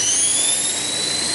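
A Walkera V450D03 RC helicopter on a 4S battery flies close by, its motor and rotors giving a loud, steady high-pitched whine with a rushing hum underneath.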